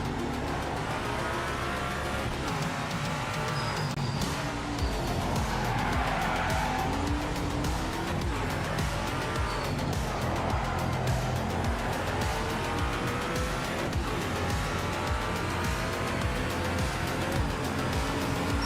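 A race car wreck replays in the Project Motor Racing video game: a continuous engine roar with squealing, skidding tires rising and falling for nearly twenty seconds, loud and close.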